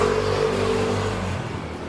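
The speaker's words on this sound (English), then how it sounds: "Why is that motorbike? Does he not know I'm recording it?" A motorbike goes past with its engine revving, a loud, steady, buzzing drone that holds, then fades away toward the end.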